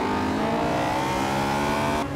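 Honda S2000 with VTEC in Forza Horizon 2, engine revving hard at high rpm with a steady rising whine, loud and close, cutting off briefly near the end.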